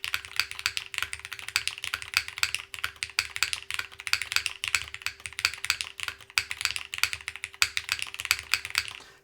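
Typing on a Cinque 55 mechanical keyboard with its foam removed and proper stabilizers fitted gives rapid, loud, clacky keystrokes in uneven bursts, with a few deeper spacebar hits, recorded up close and alone.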